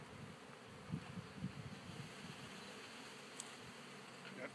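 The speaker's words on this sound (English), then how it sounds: "That was a pretty heavy bunch of bees." A package of honeybees hums in a steady, faint, continuous buzz during a hive install outdoors, with a few soft thumps and rustles over it.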